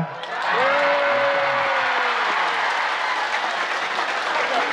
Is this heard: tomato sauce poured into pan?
no